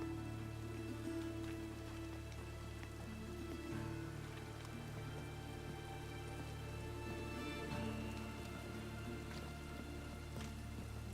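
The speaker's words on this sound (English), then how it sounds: "It just rains and rains." Steady rain pattering on a surface, soft and continuous with scattered droplet ticks, no voices.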